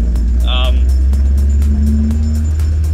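A Toyota AE86 Trueno's 4AGE engine with individual throttle bodies drones low and steady from inside the car during heel-toe driving, with a brief voice over the rumble.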